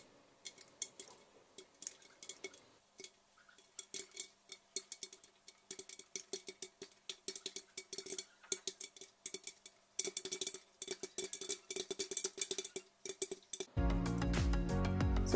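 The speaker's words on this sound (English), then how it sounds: "Now cover the pan or the cooker with a lid and let all the kernels pop." Corn kernels popping in a butter-coated pan under a lid, a scattered run of sharp pops and clinks that grows denser midway, ending with a loud continuous rattle.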